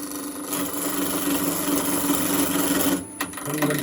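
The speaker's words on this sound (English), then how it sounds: "Let's use the skew chisel." A skew chisel cuts beech wood spinning on a lathe at 1400 rpm, a steady close scraping hiss with a brief dip near the end.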